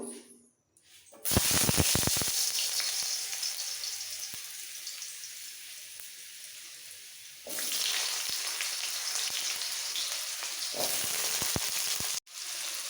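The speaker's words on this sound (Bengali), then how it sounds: "দিয়ে দিচ্ছি সর্ষের তেল কড়াইতে এক দেড় চামচ তেল দিয়ে গরম হয়ে যাওয়ার পর এর মধ্যে সবার প্রথমে দিয়ে দিচ্ছি আলু" Potatoes hit hot mustard oil in a wok with a loud, steady sizzle that runs for several seconds, dips quieter, then flares up again with sharp crackles as pieces are stirred or added.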